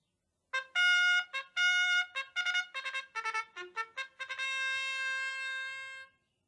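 Trumpet in a classroom listening-exercise recording, playing a series of short, bright, clipped notes and then one long held tone, heard clear and alone.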